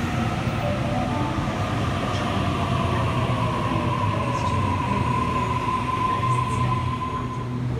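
A Sydney Waratah electric train at a station platform, a steady loud rumble of motors and rolling stock with a sustained tonal whine running throughout, continuous and near, with no talking.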